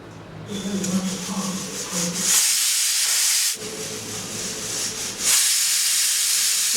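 A pressure cooker cooking mutton kheema vents loud, close bursts of hissing steam. Several long whooshing releases are separated by short pauses, and a faint rumble sits underneath, with no talk.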